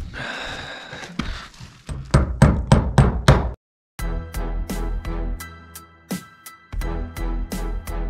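Hammer blows drive a steel rod into a brick wall during bricklaying work, a run of sharp metallic strikes, some quick and clustered, others spaced, loud and close by with no talk.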